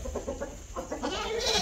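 A chicken clucks in short repeated bursts, close by, over a steady low background hum on a farm where bullocks for bullock-cart racing are kept.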